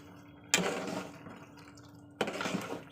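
Water splashing into a pot of boiling dal in a home kitchen, two short close pours about two seconds apart, each a loud hissing gush against a quiet background.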